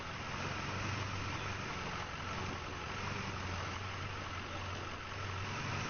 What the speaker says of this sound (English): I love the way this thing sounds. It has the idle sound